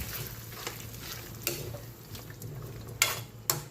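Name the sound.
mixing cheese into a cooking dish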